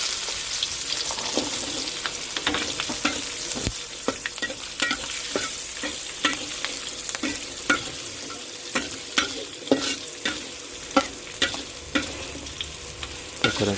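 Shallots, chilies and garlic sizzle in hot oil in a pan while being stir-fried, a steady frying hiss broken by frequent clinks and scrapes of the spatula.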